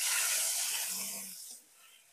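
Water poured into a pan of frying taro curry gives a loud, bright hiss that fades over about two seconds, leaving a quieter simmer.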